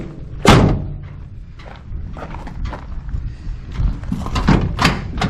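A door on a 1960 GMC truck with a 305 V6 being shut, a loud close thud at the start followed by rattly knocks and a second heavier thump near the end, no talking.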